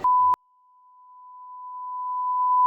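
A steady electronic beep from a Takisawa TCC-1100L2 CNC lathe rings on one pitch, starting faint and gradually swelling louder.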